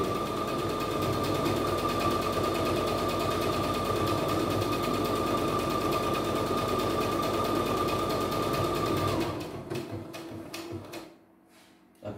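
A multifunction embroidery machine stitches a buttonhole with a steady, fast mechanical whir that runs loud and even for about nine seconds, then stutters into a few separate clicks and stops.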